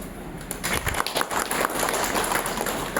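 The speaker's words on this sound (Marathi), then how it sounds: "स्वतःसाठी थोडं टाळ्या" An audience applauding itself, a burst of many hands clapping that starts quickly and holds dense and loud, with a few voices mixed in.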